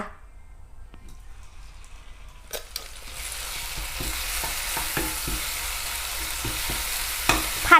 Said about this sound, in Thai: ใส่ เครื่องแกงนะคะ ที่โขกเมื่อกี้แล้วนะคะ ลงไปผัดนะคะ